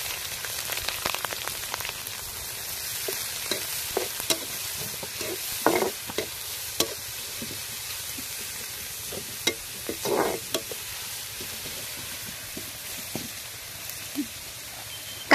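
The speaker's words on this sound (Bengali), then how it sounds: "চুলায় কড়াই বসিয়ে পরিমাণ মতো তেল দিয়ে কাঁচামরিচ পেঁয়াজ কোচানো ভেজে নিব।" Green chillies and chopped onion frying in oil in a wok, a quiet continuous sizzle broken by sharp scraping stirs and clicks from the spatula at irregular intervals, no one speaking.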